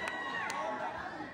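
A live crowd at a nighttime pageant cheers and shouts together, a dense, steady roar of voices filling the space for the whole moment.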